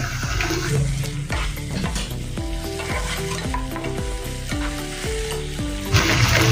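Tomato ketchup, red chili sauce and soy sauce are stirred into a rice-flour snack frying in a pan, a continuous close sizzle broken by repeated spatula scrapes and swishes.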